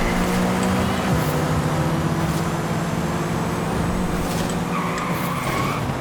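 Porsche Taycan in Forza Horizon 5 launching hard in a race, a loud steady electric-motor drone with tyre skid and squeal running throughout, continuous and close.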